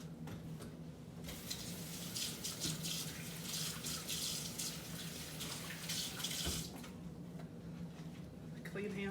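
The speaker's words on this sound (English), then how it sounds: "Now I'm going to wash my hand off." Hands are washed under a running kitchen tap during cooking, a steady close splash of water that swells and fades as the hands move through the stream.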